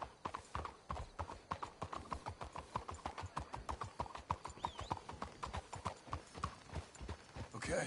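Horse hooves clip-clop steadily on the ground in the video game Red Dead Redemption 2, a fast, even rhythm of many close hoofbeats lasting throughout, with a brief horse whinny partway through.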